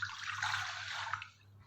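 Water is poured into a saucepan while making coffee, a soft, brief splashing rush lasting just over a second before trailing off, quiet and close.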